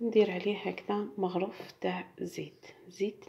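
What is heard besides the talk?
No everyday noise stands out behind the speech.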